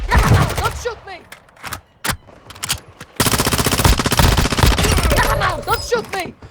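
Loud automatic gunfire from Warzone Mobile, played on a Samsung Galaxy S24 Ultra, comes in long rapid bursts broken by single shots and short gaps, with voices shouting over it.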